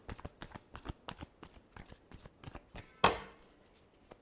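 Tarot cards being shuffled by hand give a quick, rhythmic run of soft taps and flicks, then one sharper riffle burst near the end, close and quiet.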